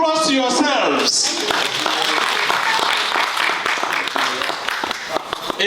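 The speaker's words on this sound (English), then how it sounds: "A big applause to yourselves." Audience at a Greenwich youth music event clapping for the attendees, beginning right after a speaking voice and then filling the room as dense, close applause with scattered individual claps under lingering talk.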